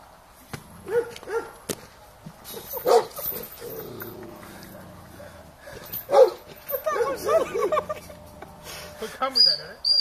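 Dog Billy barks in scattered bursts close by while several people talk and shout over and around the barking.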